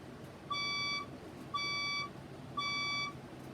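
A red fire alarm sounds three loud electronic beeps in a steady, evenly spaced pattern, each lasting about half a second, over a low background hum.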